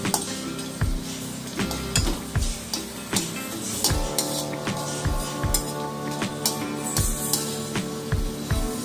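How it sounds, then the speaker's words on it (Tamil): Asafoetida frying in a couple of spoons of oil in a pan, a steady sizzle with frequent metal clinks and scrapes from stirring, close and moderately loud, with no one speaking. "ஊற்றிட்டு அதில் வந்து பெருங்காயத்தை போட்டு வறுத்துக்கணும்"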